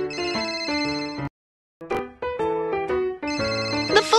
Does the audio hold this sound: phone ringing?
yes